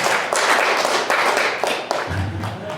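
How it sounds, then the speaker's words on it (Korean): A church congregation at a Sunday worship service claps together in a quick burst of hands that thins into scattered claps, with a low thump near the end. "우리 박수 한번 할까요?"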